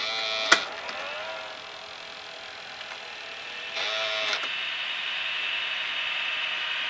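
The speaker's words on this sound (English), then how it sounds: "You can still hear the head drum." The head drum of a Sanyo VHR-2900 VCR runs in play mode with a steady, hissy mechanical whir and faint hum, marked by a sharp click early on and a brief swell partway through.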